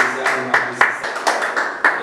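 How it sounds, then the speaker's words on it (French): Clapping at a church service, a few distinct sharp claps in an uneven rhythm, close and fairly loud, with a voice speaking alongside. "Applaudissez s'il vous plaît."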